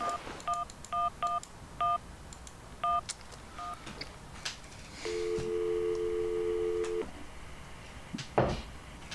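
A telephone being dialed in the video game Syberia: a quick series of short keypad tones, then a long, steady ringing tone, ending with a sharp click.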